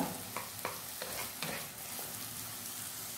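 Onions fry in a pan for chicken fried rice, sputtering steadily up close, broken by several sharp scrapes and stirs of a utensil early on.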